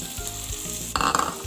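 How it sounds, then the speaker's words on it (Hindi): Egg fried rice with capsicum and carrot is stir-fried over a high flame, sizzling steadily in the pan with a few short clinks and scrapes from stirring, close and clear with no voices. "इसको हाई फ्लेम पे अच्छी तरह मिक्स कर लेना।"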